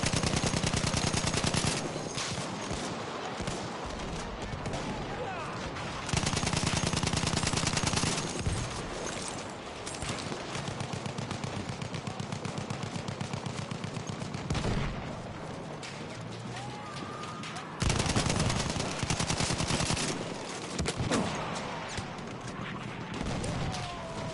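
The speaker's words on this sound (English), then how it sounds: "Machine gun." Sustained automatic gunfire from a machine gun in the video game Battlefield 1, with dense bursts rattling almost continuously and a few brief pauses between volleys, loud and close with explosions mixed in.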